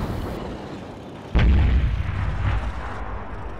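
A single loud, booming cannon shot from a T37 light tank in World of Tanks, a sharp blast at mid-clip with a rumbling tail over a steady background hum.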